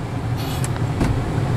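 Steady low engine and road rumble from a 1976 Cadillac Seville on the move, a continuous even drone with a couple of faint higher swishes, no voices.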